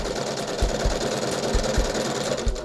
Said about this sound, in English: you have to turn your fabric as you're sewing to keep this curve on that 4/8 inch mark